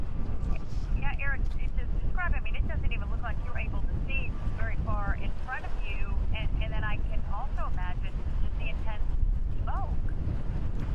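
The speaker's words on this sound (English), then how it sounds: "the wind is completely shifted in a different direction now" Strong wind blows steadily amid smoke during the Santa Rosa wildfire, a loud continuous rushing roar buffeting the microphone, with voices or chatter running over it.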